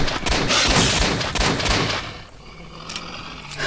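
Dense gunfire in S.T.A.L.K.E.R.: Shadow of Chernobyl, a loud continuous barrage of rapid shots for about two seconds, then thinning into scattered distant pops and echoes.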